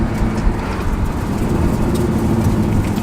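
Nissan 300ZX twin turbo engine running hard in second gear, a loud, steady, low roar that holds throughout, close up and with no talking over it.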